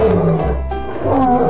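A lion roars loudly and close, a deep growling roar repeated in rough pulses across the moment, alone without talk.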